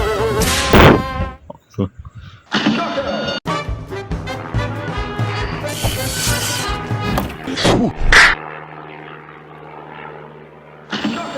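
A loud insect-like bee buzzing drones continuously, rising and falling in pitch, mixed with game music and sound effects from the video game Cuphead.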